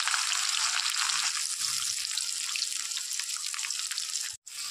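Chopped onion and tomato frying in a pan for a Bengali shol fish kalia, a loud, steady wash of sizzling hiss that drops out for a brief instant near the end.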